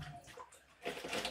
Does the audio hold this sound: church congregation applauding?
no